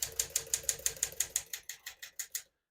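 Keys strike steadily on a 1961 Smith-Corona Sterling portable typewriter, about fifteen crisp, evenly spaced clacks in a close, quiet room, ending abruptly.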